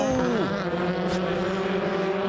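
WTCC touring race cars, a Honda with a Citroen behind, roar past on the Grand Prix circuit at Germany's 2015 Race 1, a loud steady engine drone with a pitch that drops as they pass.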